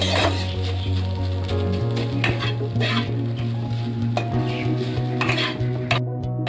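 Grated coconut fries in a pan while a spoon stirs it continuously, making a close, steady sizzle broken by repeated scraping and clinks of the utensil against the metal.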